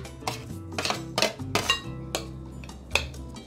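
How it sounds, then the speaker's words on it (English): Cooled potatoes going into a bowl for beef and potato flautas, heard as a run of clinking and knocking hits of utensil on bowl, close and fairly loud, irregular and spread over a few seconds. "Now I'm gonna add my potatoes"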